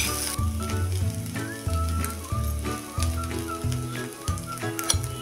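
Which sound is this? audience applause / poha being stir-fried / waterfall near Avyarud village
poha being stir-fried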